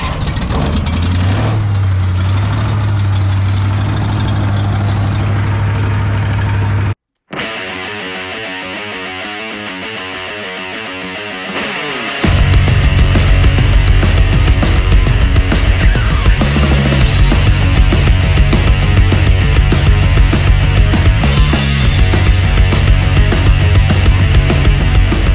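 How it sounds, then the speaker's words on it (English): A leaf loader engine warms up loud and close, running steadily, cutting out briefly, then roaring louder and continuously after revving up. "Let's get the blood flowing here in this leaf loader. Get everything warmed up before we start beating on it."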